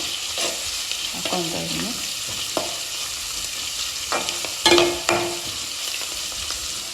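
Ingredients fry and sizzle in hot oil in a pan for a chicken dish, with steady close hissing and a few clinks and stirring scrapes; someone speaks briefly.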